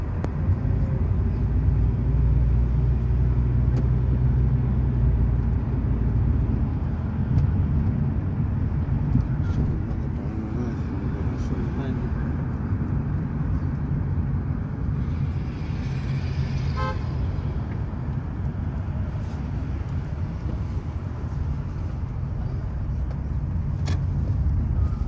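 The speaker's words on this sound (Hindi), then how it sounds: "इसी के लिए अभी रश बहुत है ट्रैफिक की" Heavy school-hour traffic in the city of Madinah rumbles past steadily, with engines droning close by, occasional short car horn toots and a brief louder horn blast partway through.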